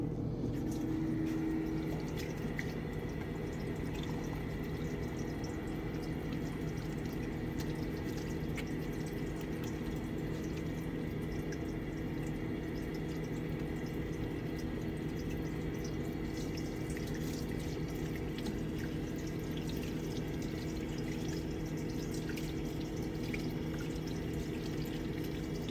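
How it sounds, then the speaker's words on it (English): Running water pours steadily from a tap into a sink during a hand wash at a dental clinic, a continuous faint splashing that lasts throughout with no talking. "So now what I would do is I'm going to do a subsequent wash at the sink."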